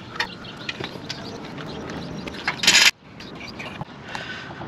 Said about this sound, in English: Okay, so impacted the bolt off.